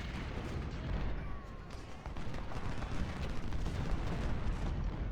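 Telescopic rifles firing in the video game Ultimate General: Civil War, a dense rolling rumble of distant volleys and booms that continues steadily throughout with no talk.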